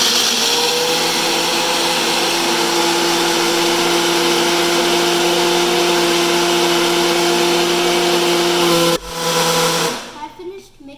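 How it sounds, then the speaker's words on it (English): A blender mixing a strawberry kiwi tapioca smoothie whirs loudly and steadily for about nine seconds, then cuts off abruptly, followed by a brief clatter as it winds down. "Secure it tightly and power the blender"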